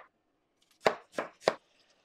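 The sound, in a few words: chopping vegetables for braised beef base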